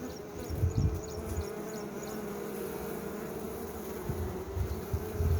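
A steady insect hum of many honeybees buzzing together at a hive, fairly faint, with occasional low rumbles and thumps, no voices.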